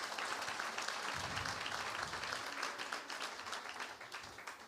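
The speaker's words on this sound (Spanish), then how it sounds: "Un aplauso para ellas dos." Steady applause from a church congregation, many hands clapping continuously at moderate distance and tapering off slightly toward the end.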